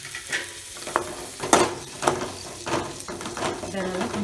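Capsicum and onion sauté in a kadai with a close sizzle, broken by repeated scraping strokes of a spatula stirring the vegetables, while a voice speaks faintly underneath.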